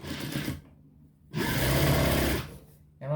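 A sewing machine stitches a dress sleeve in two close, loud bursts of rapid whirring separated by a short pause, with a third burst starting at the very end.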